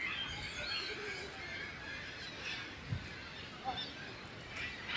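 Many birds call near Niagara Falls, a few faint, distant cries rising now and then over a constant wash of rushing water and wind.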